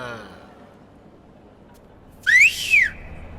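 A person in a courtroom gives two short rising-and-falling whistles in quick succession, loud and close, after a quiet stretch with faint background voices.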